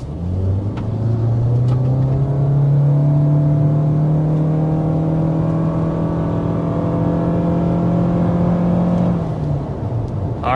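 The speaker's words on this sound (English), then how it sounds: "We're in the hybrid powertrain, and as you can probably tell, we're actually accelerating up a fairly steep hill" A 2026 Toyota Corolla Cross hybrid pulls hard up a steep hill toward 60 mph, its engine droning loud and steady as the pitch climbs gradually, then easing off near the end.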